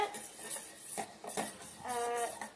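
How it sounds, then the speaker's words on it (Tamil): A spoon stirs steadily in a pan held over a low simmering flame, giving soft, close scrapes and light metallic clinks at an irregular pace, with no talking. "நல்லா கிண்டிக்கிட்டே இருக்கணும்"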